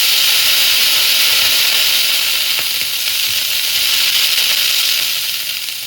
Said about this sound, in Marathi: आता हे आपण पाणी मारून टेम्परेचर कमी केलं